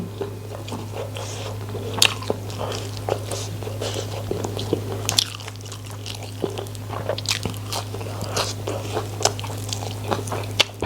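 Isan pork sausage eaten with crisp fresh vegetables, close crunchy bites and moist chewing repeating throughout over a steady low hum, no talking.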